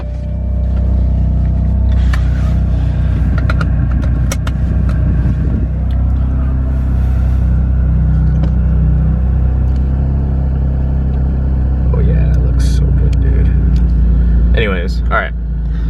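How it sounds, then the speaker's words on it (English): A car being driven on the road after new wheels were fitted and aligned, with a steady low engine and road rumble throughout and a few brief sharper knocks and rattles near the end. "I'm just gonna drive it, see how it is"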